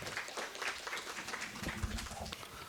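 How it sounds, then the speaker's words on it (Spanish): A crowd claps steadily in a dense, even patter of applause with no break. "démosle un fuerte aplauso"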